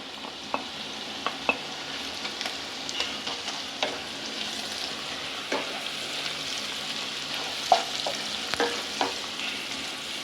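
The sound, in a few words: chicken roasting in pan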